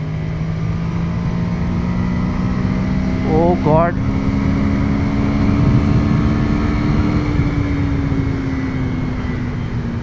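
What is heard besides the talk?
Ducati Monster 797 motorcycle accelerating at full throttle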